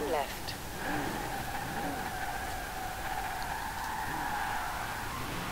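Engine of a rear-wheel-drive Pontiac Firebird muscle car in Forza Horizon 4, a steady sustained drone at constant pitch throughout, with faint tire noise beneath and no talk.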